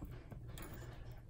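Sewing machine tying off a buttonhole on interfaced fabric, a quiet, close mechanical chatter of the needle bobbing up and down in short repeated strokes.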